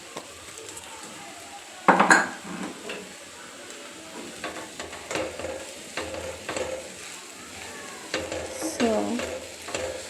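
Capsicum palya frying in a pan with salt, a continuous sizzle broken by a loud utensil scrape and recurring clinks of stirring against the pan, with a brief spoken word.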